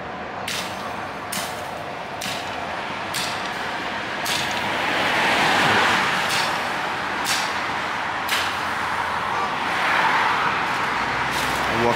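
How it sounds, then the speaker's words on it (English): Cars stream past on a busy road in Randburg, heard from the roadside as a continuous loud wash of engine and tyre noise with vehicles swelling past one after another. "This is a busy road, guys."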